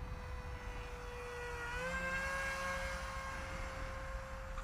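An RC model plane's electric motor spins at half throttle, a steady whining drone with a clear tone that rises slightly in pitch midway, then settles, heard from a short distance with no talking.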